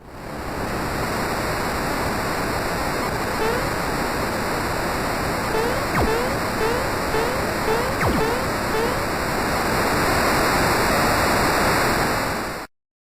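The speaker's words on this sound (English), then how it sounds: "Mario finds himself swept into a waterfall" Water gushes and a waterfall roars in Super Mario RPG as a loud, steady, unbroken rush fills the whole stretch, with faint chirpy game blips briefly surfacing partway through before the roar cuts off abruptly.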